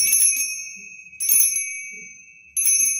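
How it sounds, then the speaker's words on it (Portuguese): A small collectible hand bell gives three bright, sharp high-pitched rings about a second apart. Each ring decays slowly, and no one speaks. "Agora já tem sino que o som é bem agudo."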